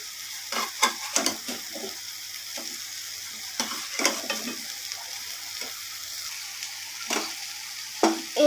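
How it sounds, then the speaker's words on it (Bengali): Soybean curry with fried pointed gourd and potatoes is stir-fried with spices, a quiet background sizzle punctuated by irregular scraping strokes of the spatula against the pan, close and clear. "এরপর পটল আর আলুগুলোকে দিয়ে ভালো করে সয়াবিনের সাথে আর মশলাগুলোর সাথে ভালো করে আমি কষিয়ে"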